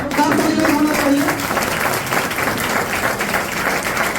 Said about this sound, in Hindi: जोरदार ताली के बीच स्वागत किया जाए।